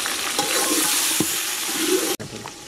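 Half a kilo of tomatoes sizzle and fry in a pan with ginger garlic paste and onions for a fish curry, a steady loud hiss with occasional stirring scrapes, cut by a brief pause near the end.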